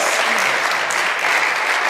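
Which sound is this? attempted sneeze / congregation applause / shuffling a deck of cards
congregation applause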